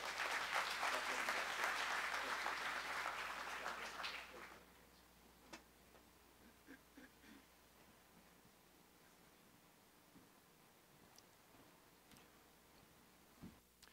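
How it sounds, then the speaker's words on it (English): Church congregation applause at a Sunday morning missions conference, a steady dense wash of clapping for about four seconds that cuts off abruptly, followed by near silence with scattered faint taps and rustles. "Give them one more round of applause"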